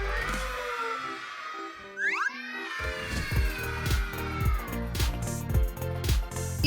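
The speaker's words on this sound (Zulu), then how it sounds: "Ikati lami." A cat meows in a children's cartoon scene, with a few rising, drawn-out meows standing alone before rhythmic background music takes over.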